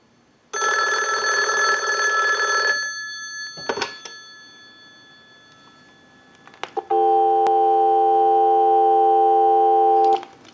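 A Western Electric 500 rotary desk telephone gives one last loud bell burst, then clicks and handset clatter, followed by a steady dial tone that hums on for several seconds, close and clear, with no talking.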